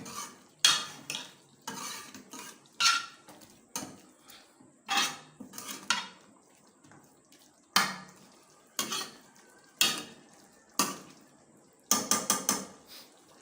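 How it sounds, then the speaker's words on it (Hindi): Spoon stirring chicken karahi in a metal pot, a series of loud scraping, clattering strokes in irregular bursts with brief pauses between, close and alone over a faint background sizzle. "अभी इसको मिक्स कर लेते हैं ताकि नीचे हमारा गोश्त लग ना जाए"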